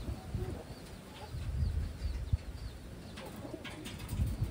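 Taiwan pigeons coo softly in a loft, low murmuring calls overlapping steadily through the clip with faint rustling and no talk.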